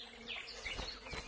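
A horsefly or mosquito, a blood-sucking insect, flies past with a faint, wavering buzz that lasts barely a second, soft and outdoors.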